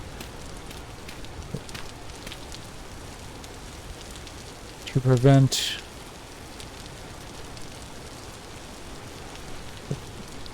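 Steady rain falling in the survival game Vintage Story, a soft continuous hiss throughout, with someone speaking briefly partway through.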